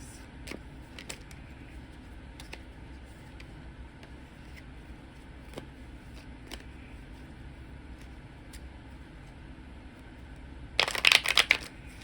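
Near the end, a short burst of tarot cards being shuffled, a quick crisp riffling flutter after a long stretch of quiet room hum.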